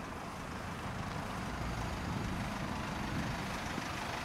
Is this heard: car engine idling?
yes